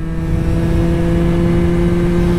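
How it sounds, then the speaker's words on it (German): An Aprilia SR50 scooter's small engine revs hard under throttle, a loud, steady buzzing drone held at high rpm from start to finish, close up with no voices. "Ich gebe mal jetzt nicht Vollgas. So passt noch von der Geschwindigkeit, von der Drehzahl, aber wenn ich jetzt Gas gebe,"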